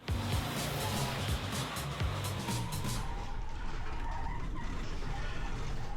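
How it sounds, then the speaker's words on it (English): Two school buses racing on a drift track, a loud close engine roar with rough rumbling and tyre scrub, heaviest at first and then easing into a steadier drone, with no voices. "we'd have 2 school buses racing on it"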